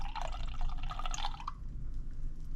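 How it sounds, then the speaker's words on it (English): Fizzy drink pouring into a cup, a bright bubbling, splashing stream of liquid for about a second and a half, then fading to a soft fizz. "all you need to do is pour some out in a cup. And it's very fizzy"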